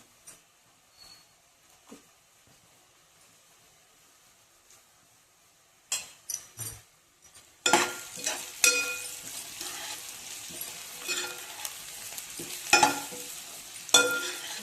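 Spoon scraping and stirring in a frying pan as turmeric-seasoned food cooks. Near-quiet for the first half, then a steady sizzle with irregular clinks and scrapes against the pan.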